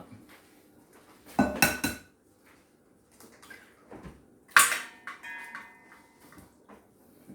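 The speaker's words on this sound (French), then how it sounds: "Je mélange bien mon œuf." A utensil clatters against a bowl as an egg is mixed into turkey paupiette stuffing for a Provençal-style dish. Two short, close bursts of clinking and scraping are separated by quieter gaps.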